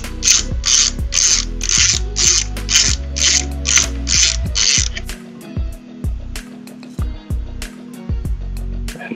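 A ratcheting screwdriver turns screws on a graphics card backplate, an EVGA 3090 XC3 fitted with an EK active backplate. It makes close, crisp clicking in a quick regular run, then sparser clicks and pauses.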